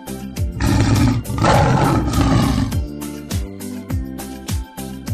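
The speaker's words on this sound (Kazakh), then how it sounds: "Барыс," A snow leopard gives loud, rough roars in two long, sustained bursts, followed by shorter choppy grunts, near and unaccompanied by voices.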